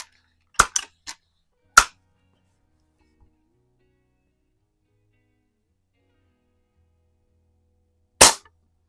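A modified Sewell KKW target rifle fires a handful of sharp, isolated shots: a quick cluster of four cracks, one more shortly after, then a long silence before a final shot, all close and clean.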